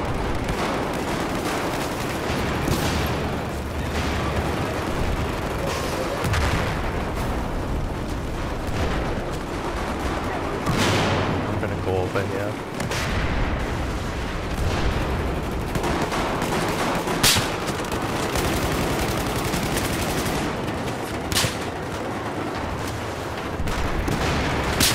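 Battlefield 4 gunfire from a CZ805 rifle on the Operation Metro map. Dense, continuous volleys of shots and blasts stay loud and close, with no letup throughout.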